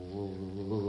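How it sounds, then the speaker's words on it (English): A loud, steady buzz like an enormous bumblebee hovering close by, droning continuously with a slight rise in pitch near the end. "What's that buzzing sound? Never mind. Just never mind the buzzing sound."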